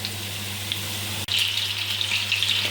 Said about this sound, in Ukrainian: ці вже я смажу просто так, без паніровки